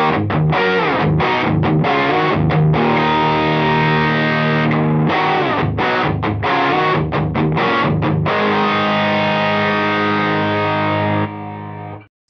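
Distorted electric guitar runs through a Universal Audio OX amp top box with its cab emulator's dampening setting engaged, playing loud, choppy riffs with sharp gaps, then a long sustained chord that cuts off at the end.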